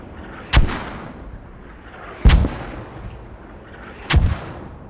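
Heavy gunfire in a multiplayer match of a military game on a map with a BTR: three loud, booming single shots spaced about two seconds apart, each with a sharp crack and rumbling tail over a low battlefield ambience.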